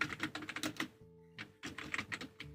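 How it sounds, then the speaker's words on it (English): Fingers type on a computer keyboard, giving quick, close, clattering keystrokes in two short bursts with a brief pause between them. "I'm going to type new videos"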